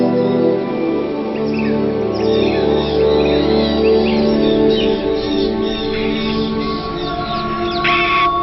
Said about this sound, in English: Birds of Eden, the largest free-flying avian facility in the world for rescued birds.